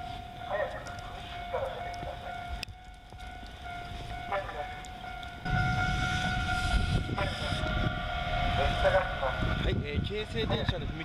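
A Keisei railway level-crossing signal in the snow in Narashino, Chiba, rings as a steady tonal alarm throughout, over a soft rumble of ambient noise that grows louder partway through.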